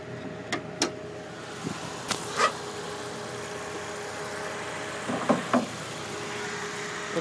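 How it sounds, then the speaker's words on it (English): 2008 Honda S2000 CR engine idling under an open hood: a quiet, steady hum with faint tonal drone, interrupted by a few brief clicks and taps nearby. "There's your motor, it is running."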